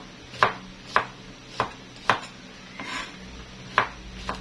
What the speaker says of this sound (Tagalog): sumunod naman ay tiniwa ko rin sa maiiksi ang okra